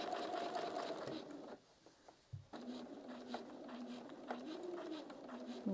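A sewing machine quilting a flip flop wall hanging gives a steady, fast motor whir. It stops briefly midway, then resumes at speed, close and continuous.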